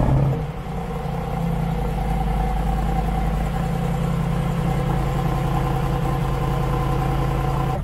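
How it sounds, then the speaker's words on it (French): A car engine catches and settles into a steady, low idle that hums evenly for several seconds with no one speaking. "On va démarrer la voiture."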